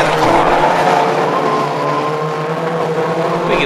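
A mini stock race car roars around an oval track, its engine loud and sustained with a steady high drone and slight pitch shifts as it passes through the corners.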